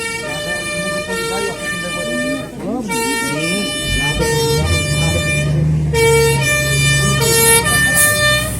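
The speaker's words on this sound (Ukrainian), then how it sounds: "Пожежний автомобіль під'їжджає ближче до місця події." Fire engine siren wailing loudly and close, its steady rising and falling tones held throughout with a low truck engine rumble underneath, heading toward a school where smoke was reported.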